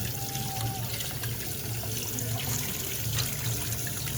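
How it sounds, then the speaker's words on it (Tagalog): A strong stream of water from a tap runs steadily and close by, with a dense, even splashing hiss that holds for the whole short stretch and has no talk over it. "Lakas ng tubig."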